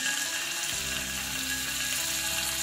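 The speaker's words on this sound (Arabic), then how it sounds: "جبنا طاسة وحطينا فيها معلقة سمنة كبيرة سيحناها، وهنبدأ ننزل بالعكاوي بتاعتنا" Oxtail (akawi) pieces frying in a pan of melted ghee, a dense continuous sizzle and crackle at close range, steady and loud with no voices.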